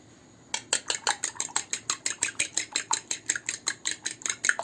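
Three eggs are beaten for batter, a utensil clicking rapidly and rhythmically against the bowl in a steady, close series of sharp strokes after a short quiet start.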